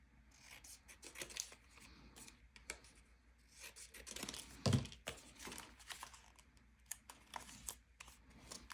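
Soft, close scissor snips and light paper rustling as a paper photo is trimmed for a junk journal, faint and irregular with one sharper cut near the middle.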